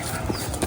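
Hooves of a cow being led out by rope, a steady run of soft clip-clop steps close by, with faint voices in the background.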